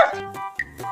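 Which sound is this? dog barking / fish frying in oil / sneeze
dog barking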